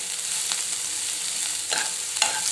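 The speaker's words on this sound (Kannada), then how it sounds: "ಹಸಿ ಪಲ್ಯ ಹೋಗುತ್ತಾನ ಹುರಿಬೇಕ್ರಿ ಚೆಂದ ಎಣ್ಣೆ ಹಚ್ಚಿ" Vegetable palya fries in oil in a pan with a constant, fairly loud hiss, broken by a few brief scraping stirs.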